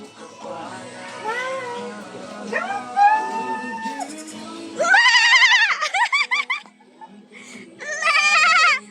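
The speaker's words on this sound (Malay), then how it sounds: "Wih, kambing." Several goats bleat loudly and close by at a mini zoo, wavering cries repeated over a few seconds, with quieter bleats from a young kid between them.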